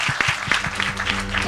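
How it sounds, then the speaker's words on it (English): Applause from the audience of a tourism and services conference session, a dense patter of clapping at steady moderate level with some voices mixed in beneath. "join me in giving a big applause to them again"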